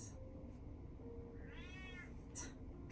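A cat meows in the Batman: The Telltale Series video game, giving one drawn-out, close meow over a quiet ambient bed, with brief soft noises before and after.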